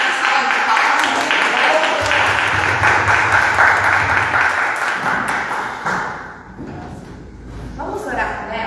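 A church congregation claps together in a full, sustained round of applause that fades partway through, leaving a quieter room with scattered sounds.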